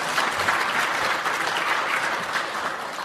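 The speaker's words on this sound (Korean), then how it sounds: "박수 한번 보내주세요." A church congregation applauding at a Christmas Sunday service, a dense, sustained round of clapping from many hands filling the room evenly throughout.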